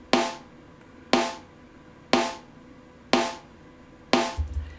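A snare drum struck five times at a steady one-second pace, each crisp attack trailing off quickly, run through a compressor at a 2:1 ratio that lightly tames the hits; loud and close, with no voices.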